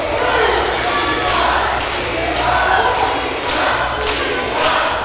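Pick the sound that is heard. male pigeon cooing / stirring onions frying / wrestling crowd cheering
wrestling crowd cheering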